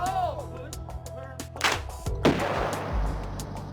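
Demolition charge set off by Army combat engineers at a training range, heard as a sharp distant blast followed by a rolling rumble, with outdoor background noise and some activity before the detonation.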